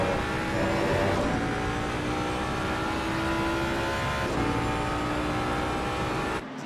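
Race car engine in Assetto Corsa Competizione at the Nurburgring, a loud continuous high-revving whine that climbs and shifts through gears, running steadily alone before cutting off near the end.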